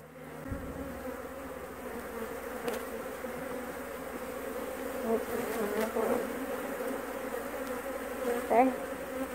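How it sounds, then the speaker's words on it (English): Honeybees swarm right around a beekeeper's face mask during a hive inspection, producing a dense, continuous buzz up close that swells and fades as individual bees pass near. "I wish you guys could see how many bees are on my face mask right now"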